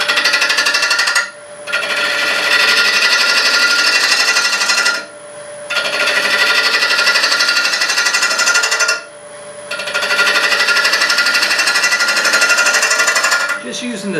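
A wood lathe turns a hackberry bowl blank at about 1000 RPM, giving a loud, steady whine with slight vibration, broken by three short dips where the tone drops before it resumes.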